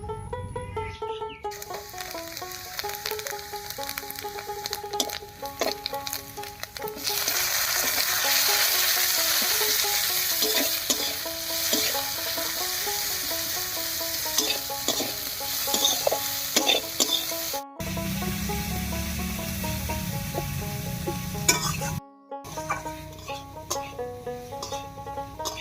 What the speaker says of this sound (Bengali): এই মাছ ভাজার তেলের মধ্যেই 2 চামচ গোটা জিরা, একটা পেঁয়াজ কুচি আর কয়েকটা কাঁচা লঙ্কা ভেজে নামিয়ে নেব